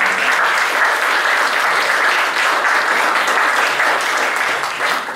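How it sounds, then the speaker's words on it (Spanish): Steady, dense applause from a seated audience at the close of a Spanish-language literary talk on the Peruvian short story, loud and sustained throughout with no voices over it, thinning slightly at the very end. "Un aplauso, por favor, para eso."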